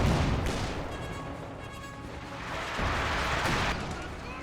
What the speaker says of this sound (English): Sherman 76 firing away.